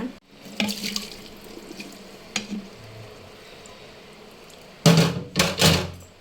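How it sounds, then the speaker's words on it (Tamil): Boiled noodles are drained at a kitchen sink. After a few faint clanks and taps, the water gushes and splashes out loudly in several close bursts near the end. "இது வெந்துடுச்சு இப்போ வடிகட்டிக்கலாங்க"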